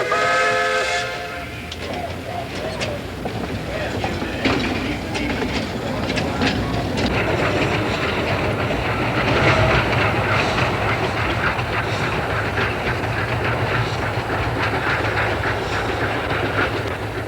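An East Broad Top Railroad steam train rumbles and clatters along the tracks in 1986, with a brief whistle at the start and rhythmic clicking wheels throughout, loud and close.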